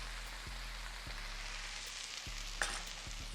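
Garlic and ginger paste stirred into onions frying in a pan, with a quiet, even sizzle and a few soft knocks from the spoon, no voices.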